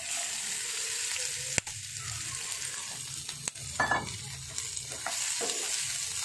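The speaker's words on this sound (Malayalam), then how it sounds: "ഇതിൻ്റെ കൂടെ തന്നെ ഇട്ട് വഴറ്റി എടുക്കാം." Onions and green chillies sauté with mustard seeds in a pan for upma, giving a steady soft sizzle broken by occasional sharp spoon knocks and scrapes.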